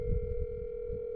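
A steady telephone dial tone plays over a speakerphone, a constant close hum with low rumbling room noise beneath it.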